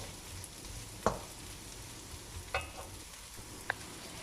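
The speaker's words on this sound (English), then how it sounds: "And now I'm adding in 1 large onion. We're going to cook this until the onions are translucent." A large onion frying in a pan, stirred now and then: a steady, even sizzle throughout, broken by three brief sharp clicks of the utensil against the pan.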